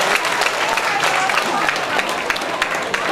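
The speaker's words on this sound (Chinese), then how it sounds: "我们再用热烈的掌声跟他们鼓鼓掌" An audience applauds at a labor union cadre forum in Kaohsiung, welcoming a visiting delegation; dense, steady clapping fills the whole stretch at a fairly even level.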